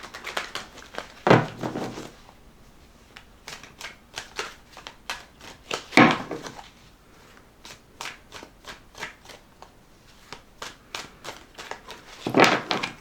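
Tarot cards being shuffled by hand in repeated bursts of riffling and flapping, with quieter tapping and sliding between them, close and fairly loud, no voices.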